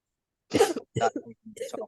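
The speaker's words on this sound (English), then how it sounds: "so if we have like a little cough, so you feel where that comes from in your chest" A few short, close coughs or throat-clearing bursts from one person in a quiet room during a reflection circle gathering, separated by brief silences.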